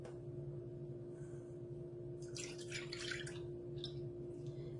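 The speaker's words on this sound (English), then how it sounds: "So we'll put 1 1/4 cup here in our bowl." Almond milk poured into a mixing bowl for vegan lemon blueberry muffin batter, a short burst of splashing liquid midway that trails off into a few faint drips over a quiet, humming kitchen background.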